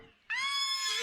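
A horse in a dating simulator video game rears up and lets out a sudden, loud, bright whinny that holds steady for under a second, with no talk over it.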